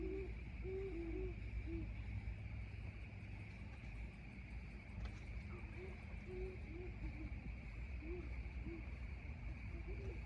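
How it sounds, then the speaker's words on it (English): Owls hoot outdoors in soft, low, repeated calls in small clusters, fairly distant against a steady hum of crickets and background noise. "Wow, lots of hooting going on."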